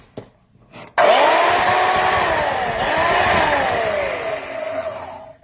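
A BAUER 10 amp variable speed deep cut band saw with a brushed motor starts up after a few clicks and then runs loud and close, a steady whining hum that rises and dips slightly as the speed changes.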